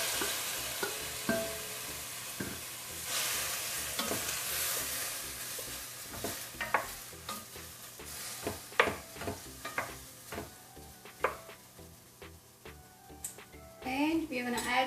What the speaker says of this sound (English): We'll put a little bit of oil. And add all these tomatoes.